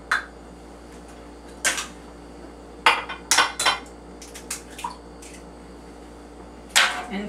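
Eggs cracked one at a time into a bowl make a series of sharp taps and clicks against the rim, arriving in irregular bursts over a quiet background hum.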